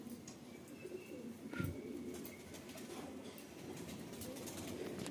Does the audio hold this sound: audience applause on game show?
no